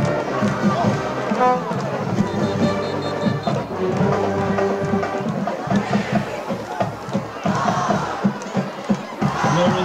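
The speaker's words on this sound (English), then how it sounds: "give the fans something to cheer for" A high school football crowd in the stands roars and cheers continuously, with loud shouting voices and excited children mixed into a dense, sustained wall of noise.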